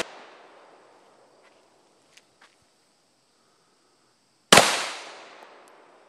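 A single sharp, loud shot from an FNX-9 9mm pistol rings out at an outdoor fish-and-game club shooting range, with a long decaying echo, after several seconds of near quiet broken only by faint small clicks.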